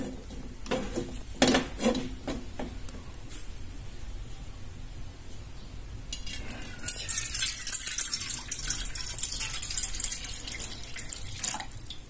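Water splashes and pours into a metal pan on the stove for cooking noodles, starting with clinks and rattles, then a steadier hissing stream near the end, with no talking.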